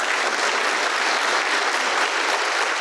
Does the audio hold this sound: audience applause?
yes